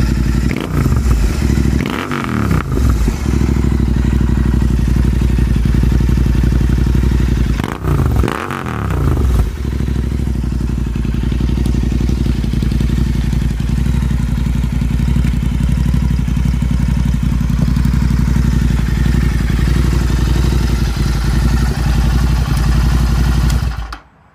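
A Royal Enfield Continental GT 650 with an S&S exhaust, reducers removed, rumbles loudly up close, with two quick throttle blips early on, then a steady deep idle drone that cuts off at the end.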